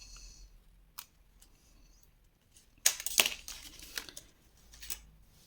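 Scissors snip through paper for a Harry Potter pop-up album page, a few quiet close cuts and crisp paper rustles, with one sharper burst of slicing near the middle in an otherwise quiet room.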